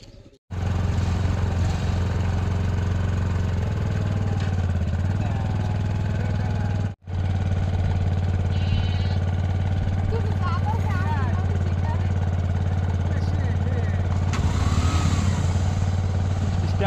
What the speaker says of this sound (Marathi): तर आज बाईक चालवायची परत एकदा